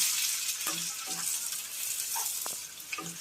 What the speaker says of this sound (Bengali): কুচি করে রাখা পেঁয়াজটা দিয়ে একটু সুন্দরভাবে নেড়ে দিতে হবে